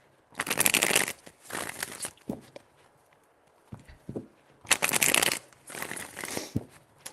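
A deck of tarot cards is shuffled in several separate bursts of dry riffling and flapping, with quiet pauses and soft taps in between, close and fairly loud.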